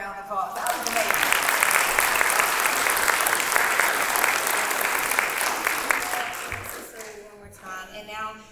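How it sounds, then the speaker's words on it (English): Large conference audience at a blood cancer conference keynote gives a sustained round of applause, a dense wash of clapping that swells quickly, holds steady for several seconds, then tapers off as a voice returns near the end. "let's give him another round of applause."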